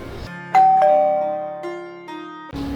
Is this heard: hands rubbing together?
no